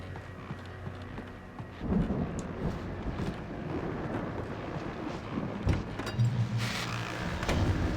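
A thunderstorm from the video game Alan Wake Remastered: a steady wash of rain and low rumbling across the whole stretch, with heavier thunder swells near the start and end and a faint voice mixed in.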